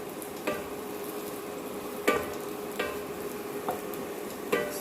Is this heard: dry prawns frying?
yes